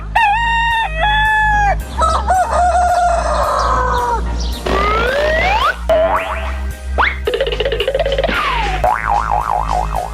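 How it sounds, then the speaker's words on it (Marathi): A rooster crows several times in a row, loud and close, the calls mixed with cartoonish boing-like effects and a steady low hum underneath. "कोंबडा,"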